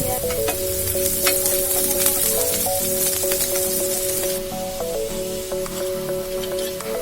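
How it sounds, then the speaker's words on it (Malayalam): Marinated boneless chicken pieces fry with sautéed onions in oil, giving a steady, close sizzle that runs unbroken throughout, with faint tonal background music underneath. "എന്നിട്ട് കുറച്ച് സവാള വഴറ്റിയിട്ട് അതിലേക്കിട്ട് വേവിക്കാം."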